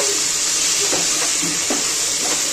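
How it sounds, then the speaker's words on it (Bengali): Ground cumin, coriander and chili powder sautéing in a pan for Bangladeshi chicken pulao, giving a steady close sizzle with a few soft stirring scrapes and no talk. "একটুখানি মশলা দিয়ে ভালো করে কষিয়ে নেব"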